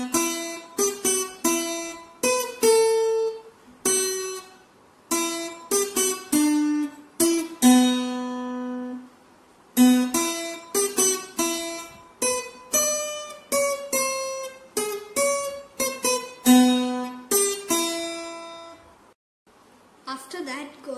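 An acoustic guitar picks out a melody note by note at an easy tutorial pace, close and clear, with plucked tones ringing in a slow rhythm and brief pauses between phrases.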